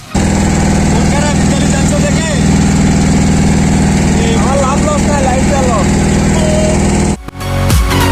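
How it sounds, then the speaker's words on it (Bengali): A trawler boat's engine throbs steadily as the vessel pulls away from a jetty, a loud, close, droning hum with faint voices in the background before a brief drop near the end. "আমাদের ট্রলার জেটিঘাট থেকে দ্বীপের উদ্দেশ্যে যাত্রা শুরু করেছে"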